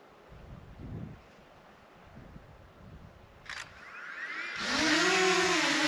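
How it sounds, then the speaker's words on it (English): Steady strong wind rushing and buffeting a nearby microphone in the Snake River Canyon, growing louder, with a sharp click and a rising whirring hum from a DJI Mini 2 drone toward the end. "as you can see, it's awful windy"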